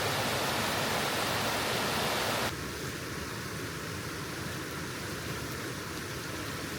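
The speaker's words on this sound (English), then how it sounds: "I'm going to go down and filter some water from this beautiful river" Steady rushing of a river in a frozen forest fills the clip, loud at first and then slightly softer and more muffled after a couple of seconds, with no voices.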